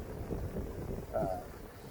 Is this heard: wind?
yes